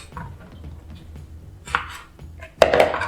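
A knife chops through bananas on a cutting board, a few soft cuts followed by two sharper, louder knocks near the end, close and clear with no talking.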